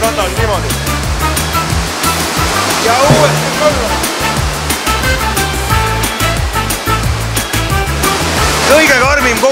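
Indoor surf wave machine rushing over the board in Finland, a loud continuous roar of churning water with a person speaking over it.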